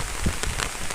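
Rain falls on a surface as a dense, even hiss, with scattered louder patters of drops and no voices.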